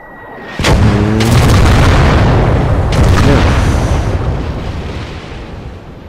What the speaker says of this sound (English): So now you can hear our artillery coming in.